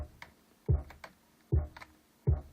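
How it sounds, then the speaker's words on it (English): Three punchy, low old-school boom bap kick drum thumps at a steady pace, with faint lighter ticks between them, fairly quiet and alone. "I think it's more of a old school type of boom bap kick."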